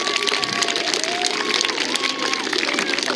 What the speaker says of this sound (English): One more round of applause for this lovely group of people.